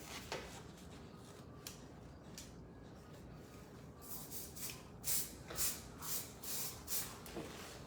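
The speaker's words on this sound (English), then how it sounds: "I'm gonna go in actually with the concrete hairspray" Concrete hairspray is sprayed onto medium-length hair in a series of short, quiet hissing bursts near the end, after soft rustling at close range.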